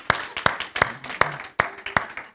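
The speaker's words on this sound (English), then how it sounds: "Give yourself a round of applause if you're a mother" A few people clap at a Mother's Day church service, a sparse, evenly spaced run of about six sharp claps with a voice murmuring faintly between them.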